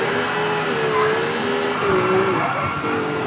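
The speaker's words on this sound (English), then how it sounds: "we've got an engine sound behind us now" A steady, droning Porsche engine in the racing video game V-Rally 4, its pitch gliding up and down as it revs, continuous throughout with a faint mechanical hum underneath.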